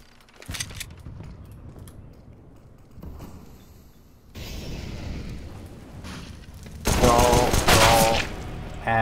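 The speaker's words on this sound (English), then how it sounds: "Throwing a grenade." In a competitive shooter game, a thrown grenade bursts into a loud, sustained blast near the end, following scattered gunfire and clatter, with bursts of voice chat under the game sounds.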